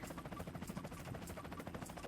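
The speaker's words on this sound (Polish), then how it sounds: "Dobra, helikopterka tak hałasuje?" Helicopter in the video game Donut County, a quiet, steady rapid rotor chop pulsing evenly throughout.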